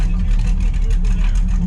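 A homebuilt 454 V8 Corvette with a five-speed and open side pipes idles loudly and close by, a deep, steady, throbbing rumble.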